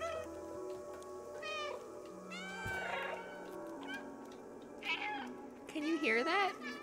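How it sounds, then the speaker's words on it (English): A cat in the Stray video game meows several times in short, clear calls spread through the stretch. A person talks over the game audio, and the cries grow louder toward the end. "Press B to meow."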